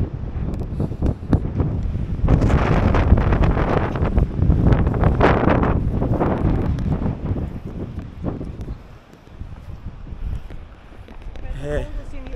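Strong wind at Cape Point, South Africa's coastal headland, buffets the microphone in loud, continuous gusts with a brief lull near the end, while people talk over it.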